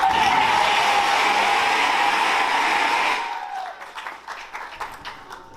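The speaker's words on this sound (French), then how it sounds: "applaudissez pour maman" Guests at a traditional wedding in Dallas applaud for the mother, a loud sustained roar of clapping that suddenly drops off into a few scattered claps and a voice.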